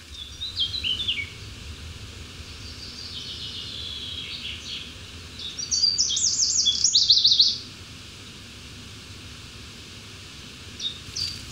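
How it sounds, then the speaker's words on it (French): Small birds visit wild teasel plants to drink dew caught in the leaves, giving brief high twittering bursts, some close and some distant, over a quiet outdoor hiss with faint insect sound. "Les oiseaux viennent boire."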